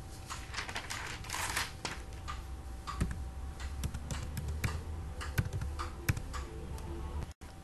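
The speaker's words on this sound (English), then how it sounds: "Write the inquiry number here." Light tapping on a computer keyboard, scattered keystrokes at a moderate pace, fairly close and soft, against a quiet room with no talking.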